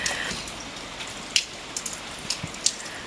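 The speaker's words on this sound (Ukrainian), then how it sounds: "а зараз дощі такі" A rain shower in a southern countryside setting falls steadily as a dense, soft hiss, with occasional louder drips and splashes on nearby surfaces standing out at irregular moments.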